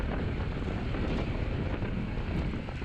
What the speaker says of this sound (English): I'm eating a lot of wind.